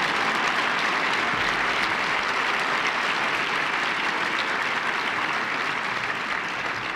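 Sustained audience applause at a speaking event, a dense steady wash of many hands clapping at even loudness throughout, with no break and no voice on top.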